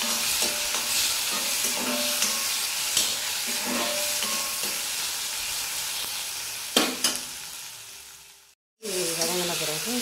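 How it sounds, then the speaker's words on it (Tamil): Onions and tomatoes frying in a pan for radish sambar: a steady, close sizzle with repeated stirring scrapes and clinks, with a voice speaking over it near the end. "தக்காளி போட்டு நல்லா தக்காளி நல்லா வதங்கணும்"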